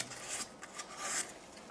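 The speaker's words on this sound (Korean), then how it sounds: "이 뒷면도 마찬가지로 사포질을 해주시고요" Sandpaper rubbed by hand over a wooden cutting board, giving a series of soft, close, raspy scratching strokes in an uneven back-and-forth rhythm with no talking.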